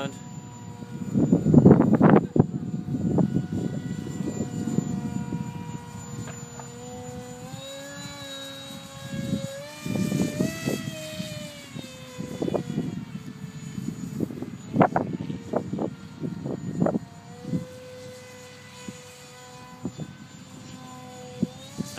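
An RC model F-35 airplane's motor whines high and shifting, swelling and fading as it flies past nearby, with people talking over it throughout.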